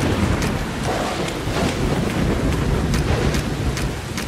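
A stormy video-game scene with a thick wash of rain and wind and low, rolling thunder swelling underneath, several sharp crackling bursts standing out above the steady roar.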